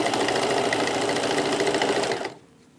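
Sewing machine running steadily and loudly as it stitches the thick, multi-layered rows of a rag quilt together, then stopping abruptly near the end and leaving near silence.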